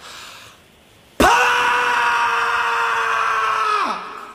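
After a quiet lead-in, one person lets out a single loud, sustained scream that holds steady for nearly three seconds and then drops away. It is close and heard alone.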